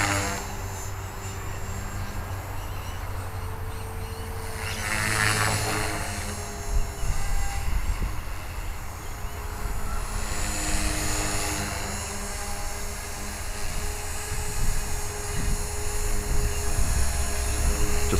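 A 450 GT2 RC helicopter flies nearby with a constant high rotor whine and motor buzz, its pitch and loudness surging and easing as the collective is pumped full up and full down.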